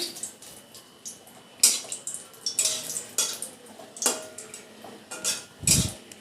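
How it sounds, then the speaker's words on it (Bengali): Dried red chillies frying in a pan, heard as close utensil clinks and scrapes in an irregular rhythm over a faint sizzle, with no one talking. "শুকনো লঙ্কাটা ভেজে নিচ্ছি"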